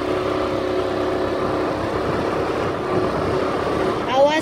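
A scooter ridden along a road, its engine droning steadily and close with broadband road and wind noise throughout, a brief rise near the end.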